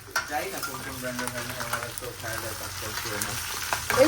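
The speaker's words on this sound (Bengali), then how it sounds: "মুরগিটাকে ভালো করে একটু তেলের সাথে, তেলের মধ্যে আগে ভাজছি, পেঁয়াজও দিয়ে ফেলছি" Close, continuous sizzle of chicken and onions frying in hot oil, with scraping and stirring in the pan while someone talks over it.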